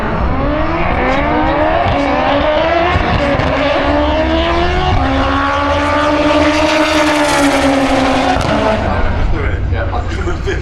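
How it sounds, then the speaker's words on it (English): A Honda drag racing car launches down the strip at Santa Pod during Door Slammers open qualifying, its engine roaring loud and close with a rising, straining pitch and tyre noise, while a commentator talks over it. "Amir Akram Ashad with a Honda in the Kestrel lane against"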